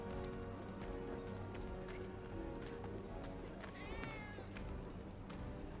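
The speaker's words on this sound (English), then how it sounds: "I'm trying to get a cat to come out." A cat in the Final Fantasy VII Remake video game gives a brief wavering meow midway through, set against a busy game soundscape with clip-clopping hooves and other ambience.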